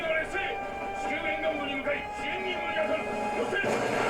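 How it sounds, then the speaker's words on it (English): A train rumbling past in an anime battle scene set at a fjord, a steady mechanical clatter with people chatting and reacting over it. "Oh, the train."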